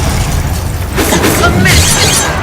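A Confringo blasting spell detonating in a Harry Potter video game, a loud shattering boom that bursts in the middle and rings out briefly, with a voice sounding around it.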